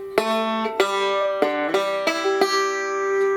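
Bright plucked banjo notes ring out in a steady 4-3-1 forward roll, with a quick open-2 hammer-on on the 4th string slurring upward near the start, played alone and close.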